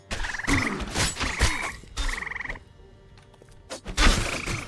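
Frogs croak in the Aquifer zone of the MMO Embers Adrift, several short buzzing calls repeating in bursts over about four seconds amid game thuds and clatter, fairly close and loud.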